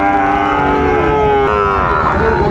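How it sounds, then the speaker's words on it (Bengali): A Sahiwal bull calf at a cattle market gives one long, loud, sustained moo close by, with steady low harmonics and faint crowd noise behind it. "শাহিওয়ালের ষাঁড় বাচ্চা।"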